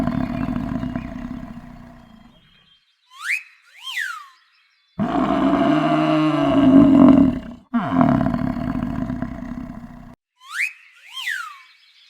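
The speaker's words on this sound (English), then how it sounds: "bison" A bison gives two long, deep roaring bellows, loud and close, with short chirping calls in the gaps between them.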